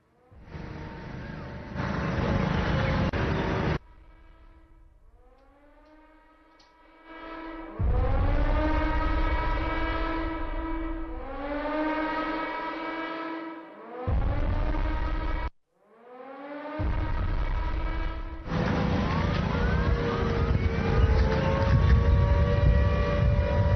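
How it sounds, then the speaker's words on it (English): Air raid sirens wailing over Chandigarh during the India–Pakistan conflict, loud rising and falling tones repeating in long cycles, broken by brief cuts, with a low rumbling backdrop. "the air sirens that are being sounded there in Chandigarh"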